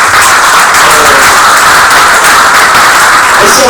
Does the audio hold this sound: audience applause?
yes